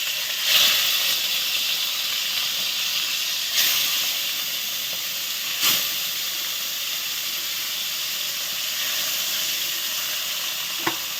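Fish frying in hot oil in a pan, a steady bright sizzle and hiss running throughout, with a few sharp pops and crackles breaking through now and then.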